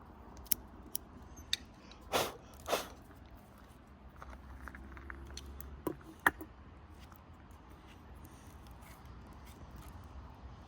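Small scissors pruning a privet bonsai, a few sharp snips scattered sparsely against quiet background rustling, with two slightly fuller cuts early on.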